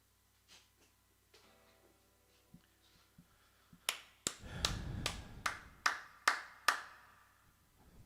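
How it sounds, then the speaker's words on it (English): A few distinct, sharp hand claps or snaps in a live happy-hour stream, about eight spaced strikes close to the microphone after a quiet stretch with soft low sounds. "Clapping for you guys for showing up."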